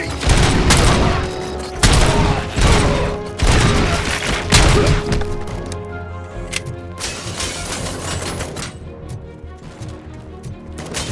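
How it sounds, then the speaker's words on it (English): Sustained automatic gunfire in a shootout in RoboCop: Rogue City, loud and dense bursts of rapid shots with crashing impacts, heaviest over the first five seconds and then thinning into scattered shots and mechanical clatter. "Keep firing!"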